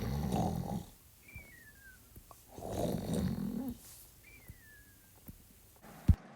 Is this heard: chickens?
no